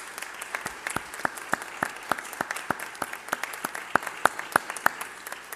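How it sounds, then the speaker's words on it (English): Applause at a City Hall event announcing city school recreation programs, a small group clapping with distinct, individually audible claps in an irregular but steady rhythm, moderately close, with no speech over it. "big round of applause"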